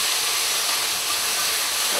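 Beef sizzles loudly in a tablespoon of hot oil for a stir fry, a dense, steady crackling hiss that fills the whole moment with no talking over it.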